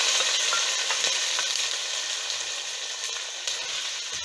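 Hot oil tempering with green chillies poured into mustard greens for sarson ka saag, giving off a steady, bright sizzle that slowly fades, broken by a few small clicks and stirring taps, heard alone and fairly close.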